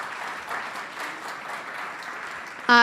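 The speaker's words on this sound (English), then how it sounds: "give him a round of applause" Keynote audience applauding steadily at a moderate distance, a continuous even wash of clapping from a conference crowd, with a brief louder sound at the very end.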